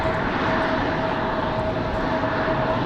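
An arriving airliner on approach to Raleigh-Durham International Airport sounds as a steady, broad engine roar with a faint whine, sustained and fairly loud throughout on a windy day, with no talk.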